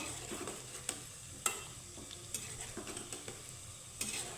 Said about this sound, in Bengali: আমি লাল লাল করে ভাজবো দেখো